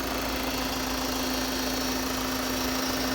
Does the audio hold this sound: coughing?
no